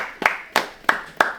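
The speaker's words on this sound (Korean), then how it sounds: "박수!" Hands clap four times at an even pace, sharp and close.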